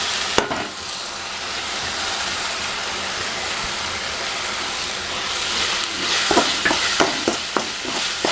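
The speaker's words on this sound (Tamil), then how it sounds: "நல்லா வதக்குங்க கொஞ்சம் பச்சை ஸ்மெல் போகிற வரைக்கும்" Bajji filling sautéing in a pan with turmeric, chilli powder and garam masala: a steady broadband sizzle runs throughout, with a cluster of sharp spoon scrapes and taps against the pan near the end, close and moderately loud.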